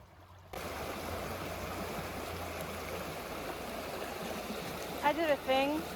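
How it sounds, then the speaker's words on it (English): A small creek in the Great Smoky Mountains flows with a steady, close rushing and trickling wash, and a brief faint voice comes through near the end. "Oh, there's a little creek."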